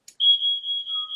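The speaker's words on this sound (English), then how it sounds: "that's my smoke alarm that keeps going off because I think the battery is dead." A smoke alarm with a dead battery sounds a single loud, sustained high electronic tone for about a second, preceded by a brief faint click, with no one speaking.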